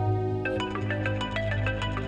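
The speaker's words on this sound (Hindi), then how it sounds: "हम अम्मी के नंबर से फोन आ रहा है।" A phone ringtone for an incoming call in a TV drama scene, a repeating melodic electronic tune of quick tones, loud and clear over a low background hum.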